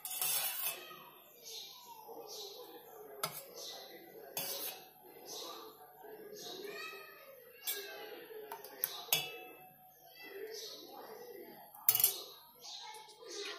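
A frying pan set down on a stove gives a few sharp metallic clanks, scattered and fairly close, while someone talks steadily over and between them.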